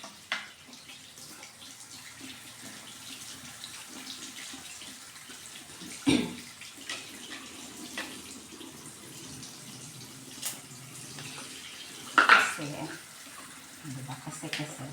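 Running tap water splashes steadily while hair dye items are rinsed, with a couple of louder clunks against the basin and occasional speech over the flow.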